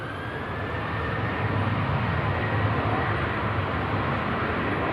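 An ATR turboprop airliner comes in to land at Manchester Airport on a windy day, heard as a steady, moderately distant broadband roar with a faint tonal whine and no talk over it.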